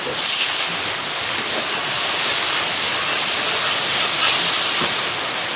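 Water poured into hot oil for an egg curry gives a loud, steady, hissing sizzle that fills the whole stretch, swelling slightly and then settling, with no talk over it.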